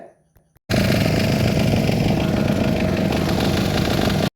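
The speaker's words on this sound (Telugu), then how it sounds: "మా పెద్దబోట్ డ్రైవర్ ఇంజిన్ మధ్య చెక్ చేశారనమాట" A fishing boat engine starting up abruptly and running loud and steady at close range, a harsh rattling drone that holds without a break before it cuts off sharply.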